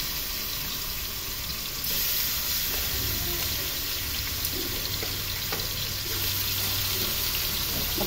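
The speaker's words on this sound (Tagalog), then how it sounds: "Ay, mainit na yung ating mantika. Ilagay na natin isa-isa ang ating pork ribs, guys." Pork ribs dropped into hot cooking oil, a continuous bright sizzle and crackle with a few louder pops as pieces go in, no voices.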